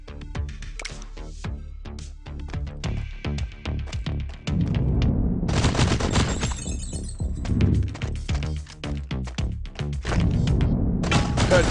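Gunfire in the shooting video game Run n Gun: a long sequence of sharp, percussive shots and impacts with breaking-glass crashes, loud and close, coming in rapid irregular bursts with a few short pauses.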